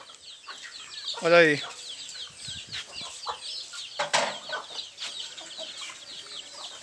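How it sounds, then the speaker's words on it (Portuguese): Crossbred chickens, a mix of large breeds, cluck and squawk together while being fed, with one loud close call standing out early and busy flock chatter throughout; someone speaks briefly over them. "uma mestiçagem de galinhas de raça grande. E obtivemos aí esse resultado."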